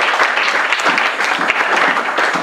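A church congregation applauding during an Easter sermon, a brief, dense burst of steady clapping from many hands.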